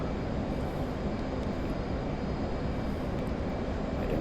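A steady, loud roar of an F/A-18C jet engine in the DCS flight combat simulator, a dense unbroken rush with no clear pauses or spoken voice.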